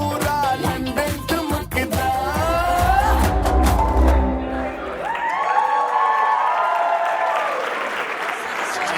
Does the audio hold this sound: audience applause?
yes